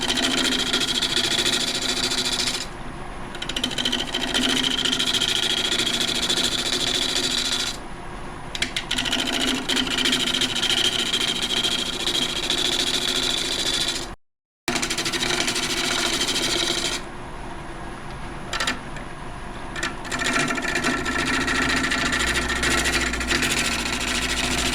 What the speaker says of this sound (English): just cutting into it just a little bit to get that pretty much level and establish our rim